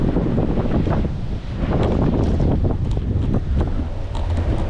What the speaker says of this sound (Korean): 이거 봐 우와 이거 봐 바람 부는 거봐